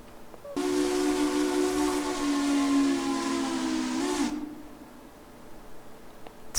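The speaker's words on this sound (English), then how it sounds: "you have a selection of whistles" A steam locomotive whistle in the railroad simulation game Railroader sounds one long, loud, steady chime-like blast of several seconds that cuts off sharply, followed by quiet background.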